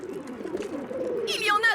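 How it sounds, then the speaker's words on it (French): Cartoon pigeons gathered around a school coo in low, soft, repeated murmurs, with a brighter warbling call rising near the end. "C'est vrai, regardez-moi un peu tous ces pigeons."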